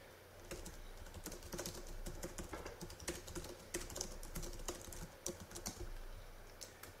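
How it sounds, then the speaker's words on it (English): Someone typing on a computer keyboard, a quick irregular patter of soft key clicks, close and faint, running steadily for about seven seconds with no voices. "I will go between this paragraph and I will type my content."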